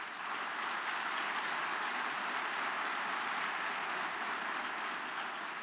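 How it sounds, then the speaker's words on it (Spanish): Sustained, dense applause from a large audience at the opening ceremony of the Spainskills 2015 skills competition, steady and loud throughout with no voices on top. "quisiera saludar y dar la bienvenida a todos los aquí presentes participantes, para los que pido un gran aplauso."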